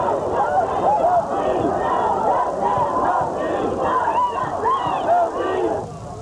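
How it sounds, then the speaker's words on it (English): A large protest crowd in a New York street near 42nd Street and Bryant Park, herded west by police after the Amadou Diallo verdict. Massed shouting and chanting voices roar steadily throughout, close and loud. "At 42nd Street, police herded the moving crowd west towards Bryant Park."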